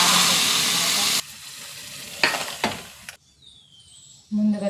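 Tempering seeds for dal fry in oil with a loud, dense sizzle that cuts off abruptly, then a softer hiss with a couple of bursts, a near-silent pause, and the sizzle returning at the end.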